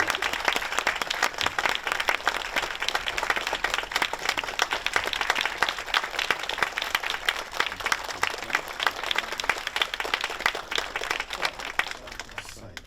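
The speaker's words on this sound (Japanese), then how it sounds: "Please welcome them with a big round of applause" An audience applauds at a Tokyo International Film Festival Q&A session welcoming a film director and actor; steady, sustained clapping from a seated crowd fills the whole stretch at moderate volume, with no voices over it.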